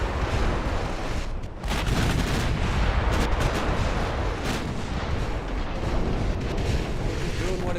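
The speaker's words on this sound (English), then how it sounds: "Torpedo detonation, obviously." Torpedo detonation in the naval battle game Ultimate Admiral Dreadnoughts: loud, dense booming blasts and rumbling explosions, with a brief dip before the barrage surges again and continues.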